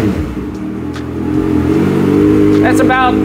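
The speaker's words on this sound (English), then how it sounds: "we're gonna go ahead and kind of rev it up a little bit" A car fitted with a quieter exhaust insert revs inside a garage, its engine drone rising steadily and loudly, with a person's voice heard briefly near the end.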